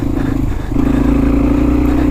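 A Yamaha TW200 motorcycle rides off-road, its engine a steady close drone that lifts in pitch and loudness after a brief dip, with rattling clatter running underneath.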